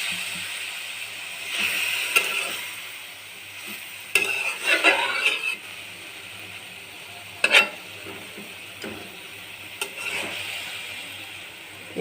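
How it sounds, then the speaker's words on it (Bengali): Boiled cabbage goes into a pan of fried onions with garam masala, cloves and cinnamon, giving a soft steady sizzle broken by several louder scraping stirs of a spoon against the pan. "এবার দিয়ে দেব সিদ্ধ করা পাতাকপি।"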